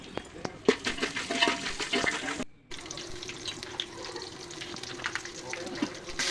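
Chicken biryani ingredients frying in oil in a pan, with a steady soft sizzle and occasional stirring clatter throughout, briefly cutting out before the frying resumes at a lower, even level.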